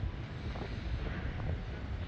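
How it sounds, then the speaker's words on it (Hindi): Steady wind rushes and buffets against the microphone, a low continuous roar with no voices. "आज हवा भी बहुत अच्छी चल रही है"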